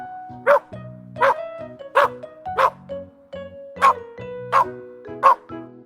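A dog barks in a steady series of about eight sharp, clear barks, evenly spaced and close by, with no talking over them.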